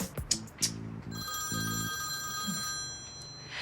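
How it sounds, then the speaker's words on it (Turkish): A telephone rings with a repeated electronic trill during a television drama scene, short bursts coming amid background clatter and a faint sustained tone, with no voices heard. "Arkadaşlar bu çalan telefon kimi rica ediyorum açar mısınız?"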